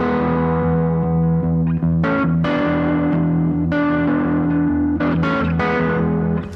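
Gritty, distorted swamp rock electric guitar playing sliding double stops, pitches gliding between strummed attacks, loud and close with steady sustain and no voices.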